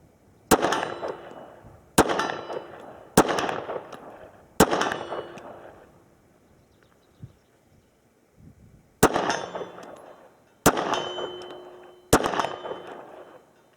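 Seven sharp HK VP9 pistol shots at an outdoor shooting range, fired in two groups with a pause between, each loud crack ringing out with a short echo tail and no talking.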